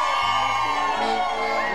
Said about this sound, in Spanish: a ver que se escuche el Zapucay